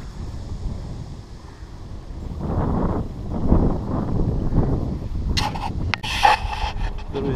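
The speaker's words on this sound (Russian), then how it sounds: "Ветер какой-то сильный поднялся, нехороший, северный" A strong north wind blows across the microphone at a riverside fishing spot on the Akhtuba near Astrakhan, making a rumbling buffet that swells in gusts, with a few sharp rustling scrapes near the end.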